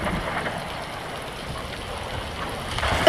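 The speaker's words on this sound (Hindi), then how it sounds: "अब धीरे धीरे बारिश और बढ़ती जा रही थी।" Steady rain falling in a forest, a soft continuous hiss of drops on leaves and ground, moderately close and alone without voices, swelling slightly at the end.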